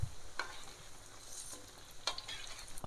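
Tempeh frying in a pan until browned, a steady low sizzle with scattered sharp scrapes and clicks of stirring, close and quiet, with no voices.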